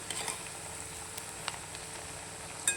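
Alu vadi (colocasia leaf rolls) frying in oil on medium flame after being flipped, a soft continuous sizzle with a few sharp pops and utensil clinks, heard alone without talk.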